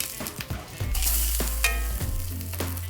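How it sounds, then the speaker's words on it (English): Veggie burger patties made with white beans and pumpkin fry in hot oil in a skillet, giving a loud, steady sizzle with a few clatters of handling, no voices. "When you're ready to eat, preheat a skillet, add some oil. Cook on both sides until crispy and brown."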